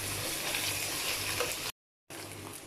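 Garlic and ginger paste stirred into onions in a hot pan gives a steady close sizzle, broken by a brief silent gap before the frying resumes.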